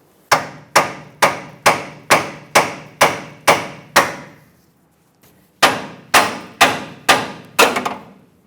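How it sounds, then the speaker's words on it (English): A hammer strikes the drag link on a 2003-2009 Dodge Ram 2500 again and again, loud ringing metallic clangs in a steady rhythm, a burst of eight blows, a short pause, then six more. "You can hit this with a hammer. Hopefully it breaks free within a couple of hits."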